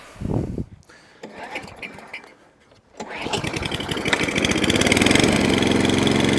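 An Atco Balmoral mower engine with a slightly sticky throttle sputters at first, then catches and settles into a steady, loud idle that holds close by for the remaining seconds.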